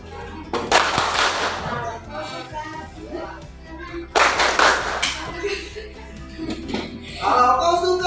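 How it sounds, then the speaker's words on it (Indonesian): A classroom of students claps a rhythmic cheer clap in bursts of sharp hand claps, with a teacher's voice and chatter between and under the rounds. "Pimpin tepuk semangat teman-temannya."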